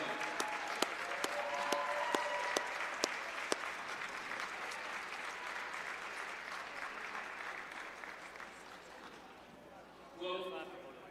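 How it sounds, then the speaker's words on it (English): A crowd at a basketball game applauds steadily, a dense wash of clapping that fades out over several seconds, with a voice briefly heard near the end. "if you would, just as a round of applause"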